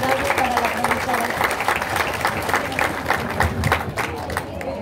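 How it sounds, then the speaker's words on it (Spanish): A school audience at an opening-day ceremony applauds a teacher loudly, brisk dense clapping with crowd chatter and cheering mixed in for several seconds. "¡Fuertes los aplausos para la profesora!"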